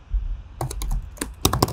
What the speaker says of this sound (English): as Alice is typing